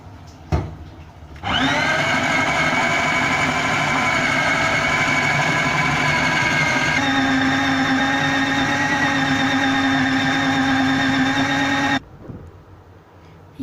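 A mixer grinder blends a boneless chicken kofta mixture: a loud, steady motor whine starts after a brief knock, shifts pitch midway, then cuts off after about ten seconds.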